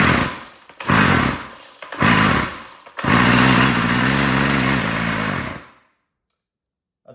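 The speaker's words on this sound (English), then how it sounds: "I think this engine might be junk because it don't sound very healthy." A small two-stroke weed eater engine sputters and revs unevenly in bursts, then holds a rough, buzzy run before cutting out into silence.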